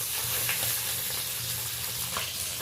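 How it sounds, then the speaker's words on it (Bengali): Tangra fish pieces frying in hot oil in a pan, a steady dense sizzle with occasional sharper crackles and pops throughout, close and continuous with no voices. "আমি অল্প অল্প মাছ তুলে দিচ্ছি, মাছগুলো ভেজে নেব"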